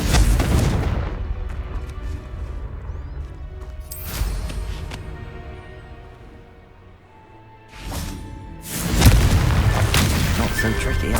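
Spell explosions from a Confringo curse in Hogwarts Legacy: booming blasts with a fiery burst near the start, another around four seconds and a louder pair near the end, over a rumbling game background.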